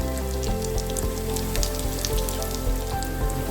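Chicken kola urundai meatballs fry in hot oil with a continuous, close crackling sizzle, dense and even, with small pops scattered across it.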